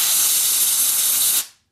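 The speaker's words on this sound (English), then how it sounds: "Let's get it some compressed air. Let's get it blown out." A steady blast of compressed air blows out an electrical connector on a 7.3 PSD diesel, a loud continuous hiss that cuts off abruptly after about a second and a half.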